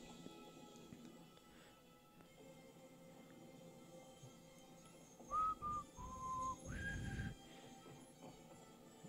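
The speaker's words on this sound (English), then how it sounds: "I whistled." A person whistles a brief tune of a few distinct notes, faint and fairly distant, rising over a low murky background of film sound.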